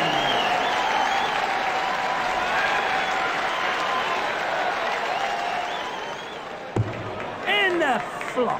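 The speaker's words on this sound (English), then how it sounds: "And applause." Darts crowd applauding at a PDC World Championship match, a loud sustained wash of clapping that fades after several seconds as a commentator begins speaking.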